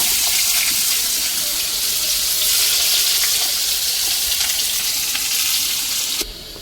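Onions are dropped into hot oil already holding fenugreek seeds and spices, setting off a loud, dense, hissing sizzle that runs steadily and then cuts off abruptly near the end.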